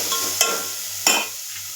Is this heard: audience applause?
no